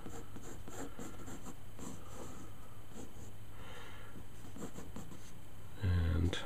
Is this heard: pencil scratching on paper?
yes